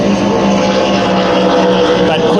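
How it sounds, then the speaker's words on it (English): A racing speedboat powered by a carburetted 5 litre Holden motor on the Manning River, New South Wales, roaring loud and close with a steady droning engine note throughout. "the little carburetted 5 litre Holden motor"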